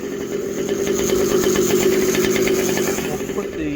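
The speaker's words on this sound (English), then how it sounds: "you can hear that Pullstart making a funny noise" A Losi 5T 1/5-scale RC car's small petrol engine, second-hand with a suspect pull-start spring, running at a steady close buzzing idle with a faint rhythmic rattle throughout.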